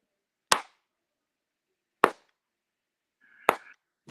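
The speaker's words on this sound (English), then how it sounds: "He's just clapping." Three separate sharp hand claps from one person, spaced about a second and a half apart, fairly close and crisp, with a faint tonal sound near the third clap.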